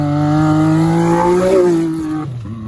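A Can-Am X3 Turbo RR side-by-side revs hard on a backyard dirt track, its engine holding a loud, steady droning pitch before dropping off sharply near the end, with no voices.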